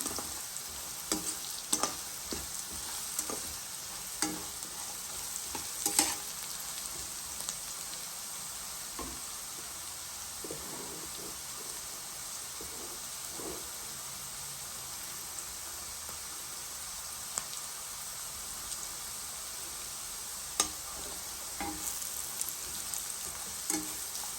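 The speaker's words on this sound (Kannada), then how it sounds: "ಅರಶಿನ ಪುಡಿ ಹಾಕಿದ್ಮೇಲೆ ಈ ಥರ ತಿರುಗಿಸ್ಕೊಡಿ" Turmeric powder being stirred into capsicum lemon rice frying in a pan, a steady soft sizzle with scattered scraping ticks of the spoon running throughout, no voices.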